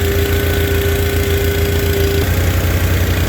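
An Onan and Perkins engine idles after a cold start with the choke off, a loud, steady, close-up chugging with a fast even pulse and a faint whine that drops out partway through.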